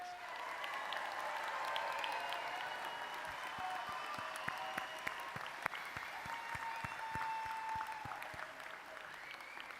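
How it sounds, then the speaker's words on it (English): An audience at a college commencement ceremony applauds its graduates, a long, steady roll of many hands clapping with a few sharper individual claps standing out and faint sustained tones beneath. "Let's give our graduates one more round of applause."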